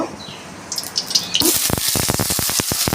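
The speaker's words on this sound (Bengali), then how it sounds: "এখন আমি কড়াইতে তেল দিয়ে লাল লাল করে ভেজে নেব" Diced potatoes hitting hot oil in a wok, a sudden loud sizzle that bursts in halfway through and keeps crackling densely, with spattering pops, after a quieter stretch of handling noise.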